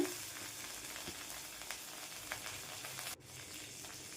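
Mustard seeds, urad dal and curry leaves temper in hot oil, a faint, even sizzle with a few soft pops and clinks, quiet and steady with a brief dip near the end.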